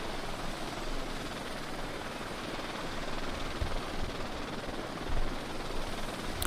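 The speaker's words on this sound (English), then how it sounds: "Let me just try to stop my helicopter here really quickly." Helicopter in a flight simulator video game: a dense, steady rotor and engine roar fills the whole stretch at constant loudness, with a slight rhythmic chop and no talking.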